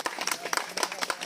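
An audience claps at a religious gathering at a Hanuman temple ashram, with brisk, uneven bursts of hand claps close by.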